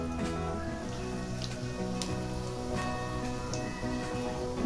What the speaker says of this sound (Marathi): तेल गरम झालेलं आहे त्यामध्ये आता खडा मसाला टाकायचा आहे जिरे घालायचे